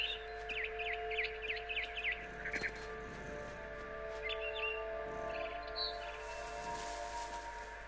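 Bird chirps in the video game What Remains of Edith Finch, a quick run of repeated high tweets early on, then scattered calls over a steady game music bed.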